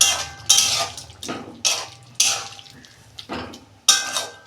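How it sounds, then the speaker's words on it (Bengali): A metal lid comes off a pot of potatoes simmering in spiced oil, giving a series of sharp, close metallic clanks and rattles spaced about half a second apart, each ringing briefly before fading. "দেখুন বন্ধুরা ঢাকনা খুলছি"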